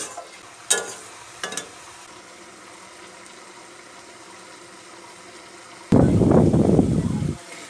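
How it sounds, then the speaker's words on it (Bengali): Dried red chilies, five-spice and bay leaf fry in hot oil in a wok after fish heads have been fried, two brief clatters of stirring followed by a loud, steady sizzle near the end. "ওই কড়াই শুকনো লঙ্কা, পাঁচফোড়ন, তেজপাতা, শুকনো দিয়ে ভালো করে মিশিয়ে দেব"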